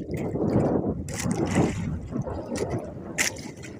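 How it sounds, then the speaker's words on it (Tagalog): Choppy water sloshes and splashes against a small fishing boat, a steady moderately loud churning with brief bright splashes and no talking. "Medyo maalon mga idol."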